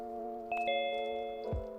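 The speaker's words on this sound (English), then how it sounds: "There's the bell." A two-tone electronic bell chimes ding-dong once, clear and moderately near, with a low background hum and no talk.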